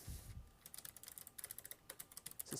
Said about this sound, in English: the more I type on this keyboard, the more I really like it